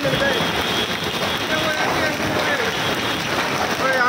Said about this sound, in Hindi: इतने बड़े बड़े ओले पड़ रहे भाई।